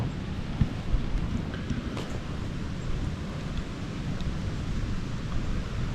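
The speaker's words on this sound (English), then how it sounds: "I can't hear them because the wind is blowing" Wind blows steadily outdoors in the woods during a deer hunt, a broad low rumble of buffeting gusts against the microphone that stays constant throughout, with no talk.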